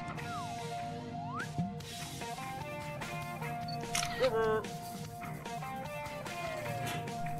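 Cartoon camera shutter clicks once as a selfie is taken on a trip to the Moon, set against busy animated music and sound effects, with a short squeaky sweep near the middle.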